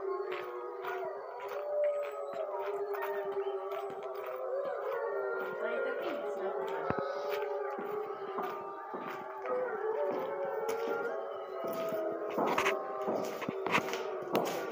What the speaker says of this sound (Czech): Slyšíte vlky.